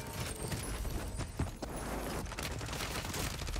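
Gunfire crackles in rapid, dense volleys in a multiplayer shooter game, heard as a steady, moderately faint barrage of shots with a few sharper cracks standing out.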